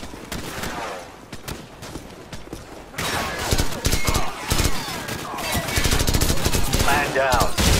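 Gunfire rattles through a battle at a base in Call of Duty 4: Modern Warfare, first as sparse sharp shots, then as dense, loud bursts of automatic fire mixed with game sound effects.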